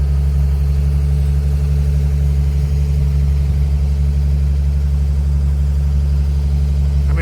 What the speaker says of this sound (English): Anyways, truck is running good.